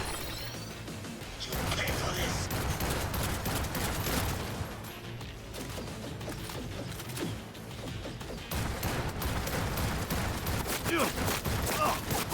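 Gunfire from a fight in the Cyberpunk 2077 video game, a steady dense barrage of shots and mechanical clatter running loud and continuous with a brief dip near the middle, while a player talks over it.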